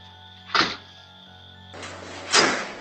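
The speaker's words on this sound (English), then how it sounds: "we can hear the door closing, perfectly matched on both cameras." A door shuts with a soft thunk, followed a second later by a second louder closing thump, both fairly near against a low steady hum.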